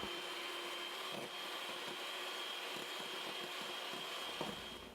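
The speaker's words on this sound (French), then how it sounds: "On va fouetter à puissance maximale jusqu'à temps que la crème soit ferme" Electric mixer whipping cream at maximum speed, a steady high-pitched motor whine with faint beater ticks against the bowl, continuous and fairly quiet throughout.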